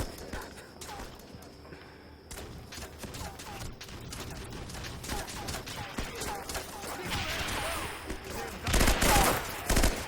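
Gunfire in the video game Breach rattles in bursts and scattered shots over game ambience, with a loud burst near the end and a voice heard shouting.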